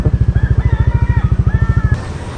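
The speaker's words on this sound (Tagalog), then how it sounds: "Ito muna lang yung motor natin." A motorcycle engine idles close by with a loud, steady, pulsing thump that cuts off abruptly near the end, at a dim campsite parking area in Antique.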